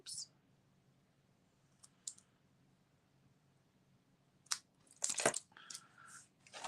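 Scissors cut paper for a handmade card, giving a few faint snips early and then a close cluster of sharp crisp cuts and paper rustles toward the end over a quiet low hum.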